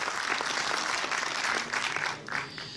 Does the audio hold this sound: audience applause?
yes